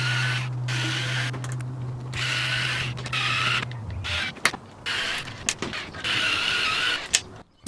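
A hand file rasps against the edge of a cupboard door in a camper van build, with repeated scraping strokes and creaks, close and fairly quiet, with short pauses between strokes.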